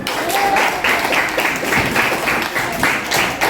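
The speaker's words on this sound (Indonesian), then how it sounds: "Berikan tepuk tangan" Students in a classroom clap for the best group, a lively round of applause with uneven rhythmic bursts, close and fairly loud, a few voices mixed in.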